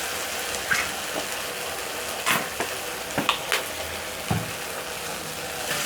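Sausages and potatoes fry in a pan with black pepper as sweet chili sauce is stirred in, giving a steady close sizzle broken by a few sharp scraping clatters from the stirring utensil.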